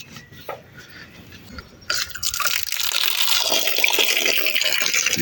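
Water poured while washing in a village setting, a few faint drips and small sounds, then a steady gushing pour that starts abruptly and keeps running to the end.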